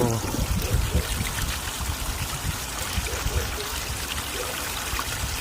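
Water loaded with sediment pours and trickles out of a solar water heater collector during cleaning, a steady rushing flow with a rough texture and a louder burst at the start.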